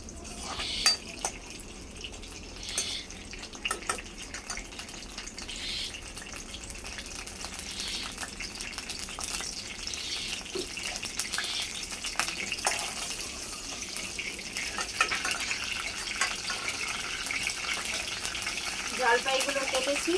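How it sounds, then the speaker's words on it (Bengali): Black cumin seeds and green chillies fry in a pan, the oil sizzling with a steady hiss while a spoon stirs them through, with faint scraping and clinks running under the sizzle throughout. "কালো জিরা নিয়েছি, দিয়ে দেব। ভালোভাবে নেড়ে নেব।"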